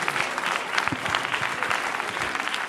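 A studio audience at a televised dance competition gala claps steadily for a dancing couple, dense and sustained applause with no break.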